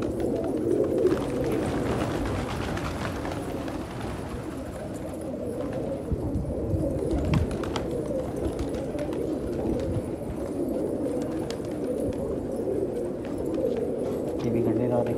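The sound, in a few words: pigeons cooing in a rooftop pigeon collection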